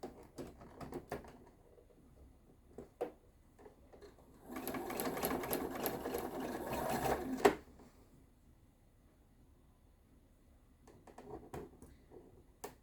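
A sewing machine stitches the seams of a snail trail quilt block in a burst of fast whirring of about three seconds, framed by quieter handling clicks and fabric rustles before and after.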